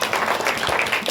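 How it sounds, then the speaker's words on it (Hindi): Loud, dense applause from an audience clapping for a student at a ceremony, a steady close wash of many hands sustained through the whole brief moment. "एक जोरदार ताली से बजाओ उसके लिए।"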